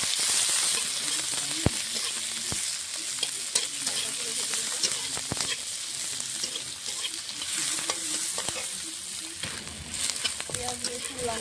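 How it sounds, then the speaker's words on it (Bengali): Chopped onion, raw garlic and green chili fry in a pan and are stirred steadily, a close continuous sizzle layered with repeated spatula scrapes and taps. "পেঁয়াজ রসুন লঙ্কাটা আমি হালকা করে ভেজেছি"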